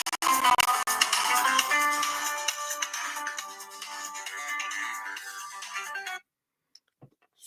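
A mobile phone ringtone plays loud and close, a bright melodic tune with a steady pulsing rhythm that runs for about six seconds and then cuts off abruptly, followed by near silence.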